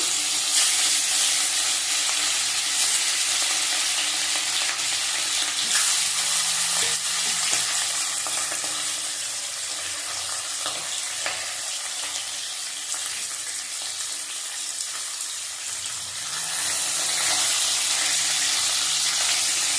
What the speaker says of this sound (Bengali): ভেজে নেবো, হালকা হালকা ভেজে নেবো।